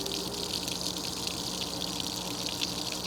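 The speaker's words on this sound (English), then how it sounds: "I'm draining the water" Water drains from a well pressure tank through a spigot and hose, a steady, loud rushing gush that holds constant without pause.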